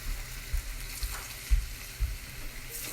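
Salmon pieces dropped into hot coconut oil in a pan set up a steady close sizzle, with a few soft low thumps as the pieces land and settle.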